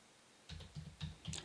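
Keys tapped on a computer keyboard while entering an IP address, a short burst of about five quick, close clicks after a brief silence.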